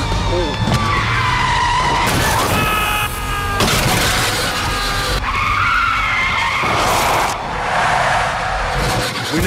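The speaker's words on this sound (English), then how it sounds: "Callum Rains, played by GoCompare, swerves out of compassion and straight into peril." A car swerves and skids on a lonely road, with screeching tyres and engine noise rising and falling over several seconds, loud and close, mixed with dramatic effects and background sound.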